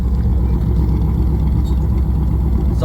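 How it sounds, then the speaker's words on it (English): A classic finned Cadillac's exhaust burbles steadily nearby at a low, even idle, a deep continuous rumble with no talk over it. "So I shut up for a little bit so you can appreciate the exhaust"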